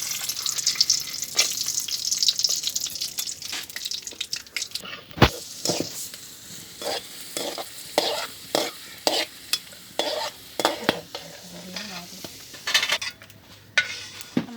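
Moong dal frying in ghee in a pan, stirred with a spoon in steady scraping strokes over a continuous sizzle, close and fairly loud, with no voices.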